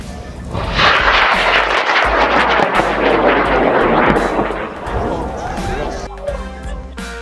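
A rocket launch after a countdown roars as a loud, sustained rushing blast that slowly fades over several seconds, with people talking and exclaiming over it.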